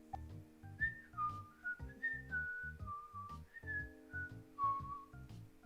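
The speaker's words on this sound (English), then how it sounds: "They're whistling the theme." A theme tune whistled as a clear melodic line of held and sliding notes over a rhythmic low musical backing, moderately close and with no talk over it.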